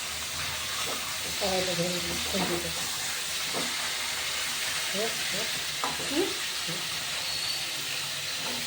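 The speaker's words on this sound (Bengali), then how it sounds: "মাছের মাথাটা ভালো করে ভাজা হয়ে যায়।" Catla fish head frying in hot oil, a steady sizzle running throughout with faint spoken voices over it.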